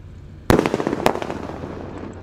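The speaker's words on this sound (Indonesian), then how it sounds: "Kita nyalakan guys. Sudah menyala, siap meluncur ini." A Roman candle bazooka-style firework launcher goes off close by with a sudden loud burst, followed by a rapid crackling volley and a second sharp pop, then fading sparkle and hiss; no talking.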